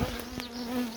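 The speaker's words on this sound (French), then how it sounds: "Petite micro-boule d'abeilles." A small cluster of honey bees buzzes close by near a hive, a steady droning hum holding a clear pitch with a few louder passes of individual bees.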